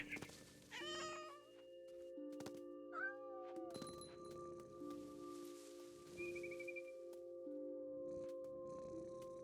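A cat in the video game What Remains of Edith Finch meows several times in short, clear calls over a steady low game ambience, with no talking.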